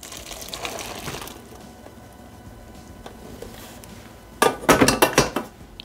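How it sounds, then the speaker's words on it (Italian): Cooked penne is poured into a bowl with shrimp and rocket, starting with quiet scraping and shuffling, then a close burst of clattering pasta and clinks against the bowl near the end. "Versare la pasta nella ciotola con i gamberetti e la rucola."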